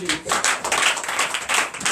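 A church congregation at a Sunday service claps in acclamation, bursts of hand claps rising and falling over two seconds with voices mixed in.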